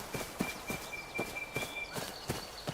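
Horse hooves clip-clop at a steady walking rhythm in the video game Where Winds Meet, close and even, with a thin tonal ringing over a rainy ambient background.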